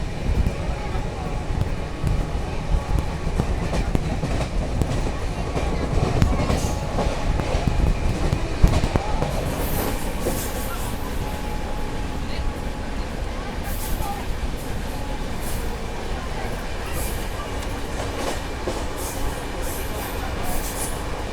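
The Jallianwala Bagh Express runs near Adarsh Nagar, Delhi as the Shri Shakti AC Superfast Express passes, making a sustained heavy rumble with rhythmic clickety-clack and sharp rattling bursts in the later part.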